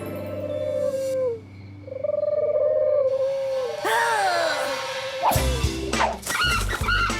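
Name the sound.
pigeon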